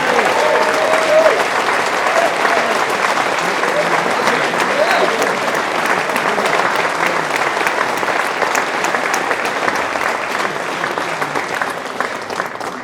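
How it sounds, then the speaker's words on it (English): Audience applause at a Hall of Fame celebration honoring former Titan basketball players, with a steady, full wash of clapping from a large crowd sustained evenly throughout. "Let's give them all a round of applause for all those that have put on the green and white."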